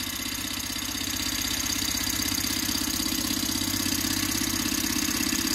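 Small Okmo Microcosm Rider Ericsson model hot-air engine, model R01, running steadily with a water pump circulating coolant, giving a continuous close mechanical hum and fine rhythmic ticking throughout with no talk.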